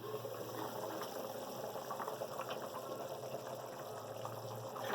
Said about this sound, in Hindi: नाज़रीन 15 मिनट हो गए हमारे चनों को पकते हुए।